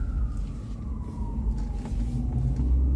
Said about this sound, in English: Ambulance going the other way there.